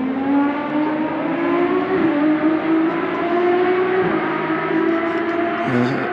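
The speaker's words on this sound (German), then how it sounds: "was man da im Hintergrund hört, ist so ein Lamborghini 12-Zylinder Essenza" A Lamborghini Essenza V12 race car roars steadily at a Spa 24-hour circuit event, a loud, sustained high-revving engine howl with a slight pitch shift, heard alone without talk.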